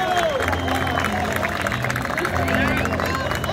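Steady audience applause and crowd noise at an outdoor folk music festival, continuous clapping with background chatter, fairly close and unbroken throughout.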